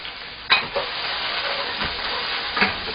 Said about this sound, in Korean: 마늘, 생강, 홍고추 넣겠습니다. 자, 이렇게 볶으시면서